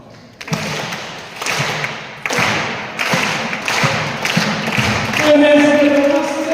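An audience performs a slow clap: single loud, unison hand-claps land about a second apart and then gradually quicken, and a voice begins speaking near the end.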